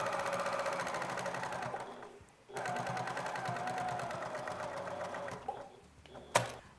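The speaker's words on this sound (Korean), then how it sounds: "요 곡선 테두리를 따라서 한 번 더 상침을 해서 형태를 고정을 해줍니다" A sewing machine runs in steady fast bursts while topstitching along the curved edge of a zippered fabric pouch, close and clear, pausing briefly mid-seam before restarting, then a sharp click at the end.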